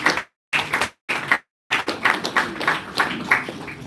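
Applause at a property investment conference as a speaker is welcomed to the podium, a few short bursts of clapping cut by abrupt gaps, then continuous clapping from a modest audience.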